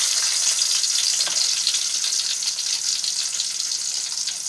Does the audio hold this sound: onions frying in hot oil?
yes